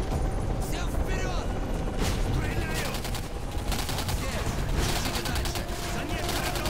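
Dense, continuous gunfire and combat noise from the video game Singularity, rapid overlapping shots and mechanical clatter at a loud, steady level with a voice speaking over it.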